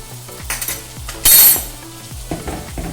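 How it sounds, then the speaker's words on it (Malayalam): Tomatoes sauté in a pan with a spoon of chilli powder for a crab roast curry, with a low sizzle broken by several spoon knocks against the pan and one brief loud hissing burst. "തക്കാളി ഒന്ന് നന്നായിട്ട് വഴണ്ട് വരുന്ന വരെ നമുക്ക് നന്നായിട്ട് വഴറ്റാം."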